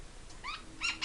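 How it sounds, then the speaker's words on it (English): A half-moon conure parrot gives a few short, bright chirping calls in quick succession, close and fairly clear, with the last call louder than the first. "She's a half-moon conure."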